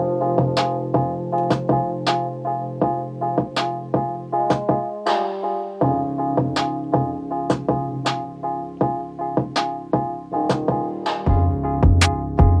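Simple 808 bass line programmed in FL Studio, deep sliding bass notes under a looping drum pattern and synth melody, steady and loud throughout.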